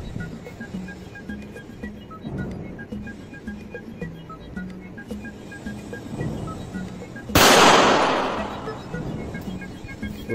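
.32 caliber gunfire aimed at an AR500 steel plate from a distance, heard as one loud, sharp report that decays over a few seconds, set against a steady background rumble.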